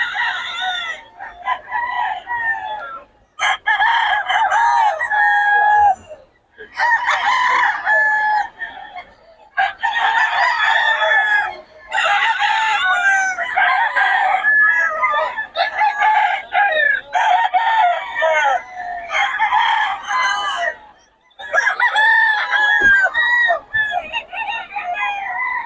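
Several roosters at a seller's stall in a Bocaue market crow again and again, loud and close, in long overlapping calls with short gaps and some clucking between them.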